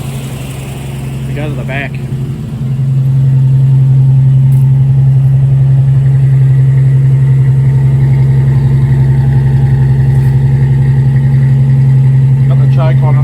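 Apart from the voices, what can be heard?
1964 Ford Falcon Futura engine running and revving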